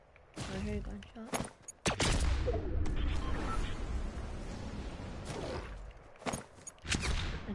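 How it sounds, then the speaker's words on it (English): In a sniper shootout video game, sharp gunshots crack out in quick bursts at the start, followed by a sustained rattle of gunfire and scattered later shots, with a player talking over it. "I hear a gunshot."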